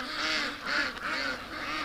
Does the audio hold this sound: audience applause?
no